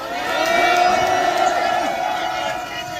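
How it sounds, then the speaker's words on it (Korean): A crowd at a university student rally in Seoul cheers and whoops to welcome a speaker, a loud sustained swell of many voices that peaks early and slowly fades. "큰 박수로 맞아주시기 바랍니다."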